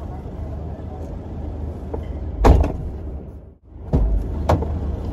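A door slides or swings shut with a loud rattling thud near the middle, then a second clunk a moment later, over a steady low background hum in an enclosed space.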